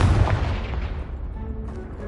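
The Confringo blasting spell from Hogwarts Legacy goes off as a loud, close explosion, a heavy booming impact that decays into a rumbling tail over about two seconds.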